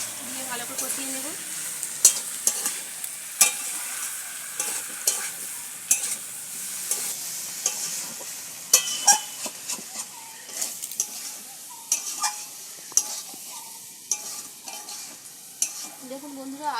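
Duck meat is stirred in a pan with ginger-garlic and chili paste, sizzling and frying while a spatula scrapes and taps the pan in frequent sharp knocks, close and steady for a long stretch.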